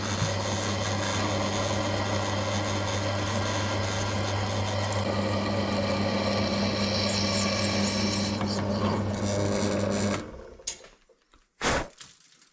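A VEVOR MR-13A twist drill sharpener grinds a steel drill bit with a loud, sustained buzzing whine that cuts off after about ten seconds, followed by a brief extra burst of grinding.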